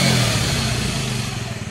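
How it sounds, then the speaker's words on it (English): Suzuki GSX-S 125 motorcycle engine given a snap throttle: a loud, close mechanical drone that begins high and settles back as the rev drops, with no voices. "So the ignition waveform, I'll just give it a snap throttle."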